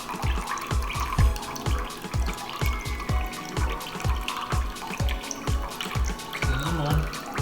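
Soy sauce glugs slowly out of a bottle while ramen is being made, a close, regular series of low gurgling drips and splashes with faint kitchen background and no talking.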